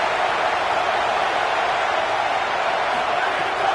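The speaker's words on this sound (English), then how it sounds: "this crowd is at fever pitch" A football stadium crowd at NC State versus Cal roars during a third-down play in the red zone, a dense, even, continuous wall of noise with no breaks.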